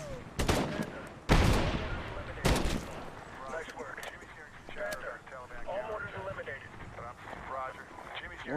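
Gunfire in the video game Medal of Honor, several sharp loud shots in the first few seconds, then a busy background of fainter combat noise, with people talking over it.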